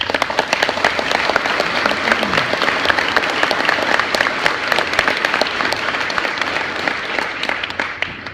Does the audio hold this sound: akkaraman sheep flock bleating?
no